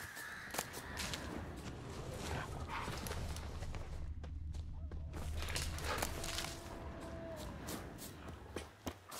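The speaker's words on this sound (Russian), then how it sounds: "Вот с собачками. Ой, волчата." Wolf pups in The Witcher 3 video game give several sharp barks and yelps over a busy game soundscape, with irregular bursts spread across the clip.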